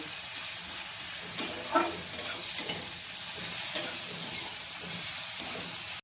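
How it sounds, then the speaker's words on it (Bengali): Salted onions fry in a pan with a soft steady sizzle, while stirring scrapes and light clatters come at irregular moments, fairly quiet with no voices. "পেঁয়াজটা অল্প ভেজে নেব।"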